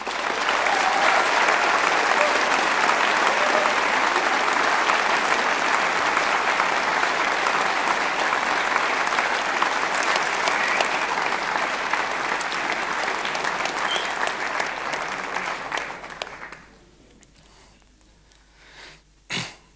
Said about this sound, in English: a very warm applause for the new Delft Hyperloop Dream Team